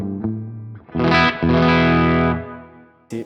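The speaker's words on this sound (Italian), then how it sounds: "Soprattutto il pick up al ponte è più vintage come concetto, più brillante, più aperto" An electric guitar played through its bright, open bridge pickup, a semi-hollow alternative to the Gibson ES-335, rings out in loud, vintage-toned sustained notes and chords, close and alone.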